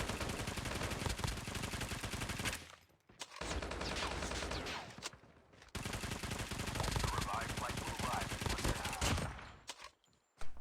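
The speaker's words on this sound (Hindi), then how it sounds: "मुझे गोलियों की आवाज़ भी आना शुरू हो जाता है।" Sustained rapid automatic gunfire from COD Mobile gameplay, loud and dense, broken by two short pauses before bursts resume, ending with a near-silent gap and a final sharp shot.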